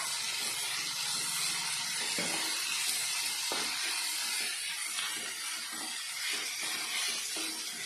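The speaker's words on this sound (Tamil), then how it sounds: "உள்ளியை நல்லா கண்ணாடி மாதிரி வதங்கிறது வரைக்கும் வதக்கணும்" Shallots sauté in coconut oil in a pan, giving a continuous dense sizzling hiss that stays steady and fairly close throughout, with no one speaking.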